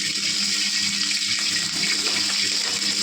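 Oil poured into a kadai for a kingfish masala, giving a steady, loud liquid pouring and sizzling wash that runs the full length with no talk.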